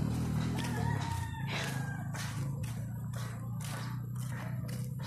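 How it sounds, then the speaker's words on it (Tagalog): A rooster crows and clucks in a garden beside a house in rural North Cotabato, a steady low hum and repeated bursts of bird calls filling the short span at moderate distance. "Merong manok."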